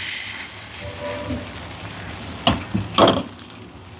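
Coconut dosa batter poured onto a hot stone griddle hisses in a steady close sizzle, followed by a few sharp clinks and scrapes of a ladle against the pan.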